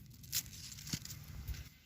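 A quick snip of a spent daisy flower stem being cut with garden shears, close and soft, followed by faint rustling of foliage.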